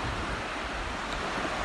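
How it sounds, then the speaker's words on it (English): Waves roll onto a Gulf of Mexico beach at Gulf Shores, Alabama, making a constant close wash of surf with wind rumble against the microphone and no voices. "listening to the waves roll in."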